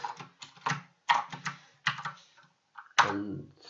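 Computer keyboard typing a line of Python code, clustered bursts of quick keystrokes with brief pauses, close and fairly clear with no talk.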